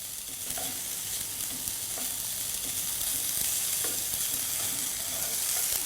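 Food frying and browning in a pan as a Christmas side dish is started before Brussels sprouts go in: a steady close sizzle with occasional soft stirring clicks, no talk.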